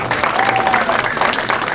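A crowd at a fundraiser dinner with a silent auction bursts into loud applause, dense clapping mixed with cheers and murmuring voices, close and energetic throughout.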